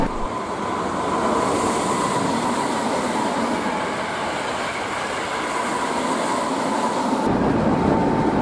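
A Hankyu Kobe Line limited express train with cross-seat cars runs at speed, giving a loud, continuous rumbling roar with faint rail rhythm heard from inside the car and no talk.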